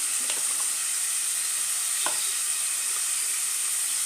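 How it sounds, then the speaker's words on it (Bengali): Masala spices of salt, cumin powder, chili powder and turmeric sizzle and fry in a pan for masala uchha (bitter gourd), a steady loud hiss with a couple of soft stirring scrapes, close up and without speech. "সব কিছু মশলা একসাথে খুব ভালো করে কষে নেবো"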